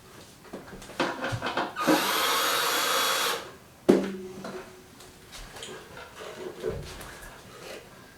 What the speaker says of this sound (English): Pass me that drill.